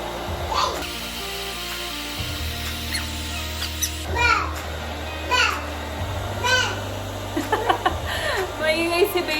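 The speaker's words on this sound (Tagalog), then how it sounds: "Maingay si baby kasi tinuturuan ko siyang mag-sounds." A baby makes short babbling vocal sounds in bursts, with squeals and coos over a steady background hum.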